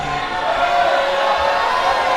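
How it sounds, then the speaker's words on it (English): Wrestling event crowd in an arena roaring and cheering, a dense steady wall of voices that stays loud throughout. "What a wonderful, wonderful, disrespectful crowd tonight."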